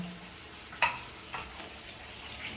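A spoon scrapes a couple of times in a pan over a soft, steady frying hiss as chicken with coconut milk, carrots, potatoes and chili cooks for dinner.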